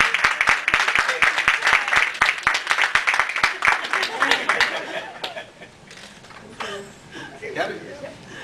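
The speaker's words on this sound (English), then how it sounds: "Can you give her another round of applause?" Audience at a poetry reading with guitar at a Chicago university, a burst of dense applause for about five seconds that tapers off into scattered claps, chuckles and murmuring voices.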